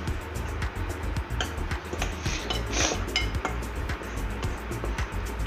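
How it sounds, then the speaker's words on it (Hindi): A spoon stirring flour, sugar and dry yeast in a bowl, giving steady clinks and scrapes against the bowl, close and continuous with a low background hum. "इसको हम पहले अच्छे से मिक्स कर लेंगे।"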